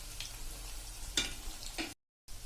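Papdi gathiya snacks frying in hot oil in a home kitchen, a soft continuous sizzle with a few brief crackling bursts, faint and steady, cutting off briefly near the end.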